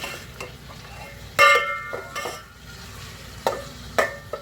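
Turmeric and red chili powder fry with garlic and ginger in a pan, a low steady sizzle under occasional sharp clinks and scrapes of a stirring spoon against the metal.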